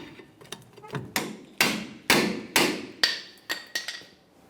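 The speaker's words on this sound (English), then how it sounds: "Ours are stuck in the bracket. Just knock them out of there." A hammer knocks stuck brake pads out of the caliper bracket on a 1999–2006 Chevrolet Silverado 1500, about eight sharp metallic strikes with ringing decay, a few lighter taps first, then heavier blows, close and loud.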